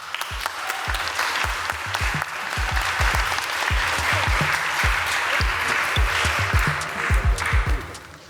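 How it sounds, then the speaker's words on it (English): An audience at a spring student showcase claps, a sparse, loose rhythm of individual hand claps that thickens midway into fuller applause, then thins out again toward the end. "Y'all give another round of applause for Jacob Goldberg."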